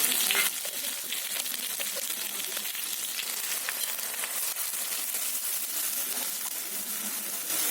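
Steady broadband sizzling of green pea filling frying in a pan, continuous and fairly loud, with small scattered crackles and no voices.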